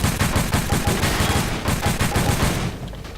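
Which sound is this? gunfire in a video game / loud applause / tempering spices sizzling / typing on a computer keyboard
gunfire in a video game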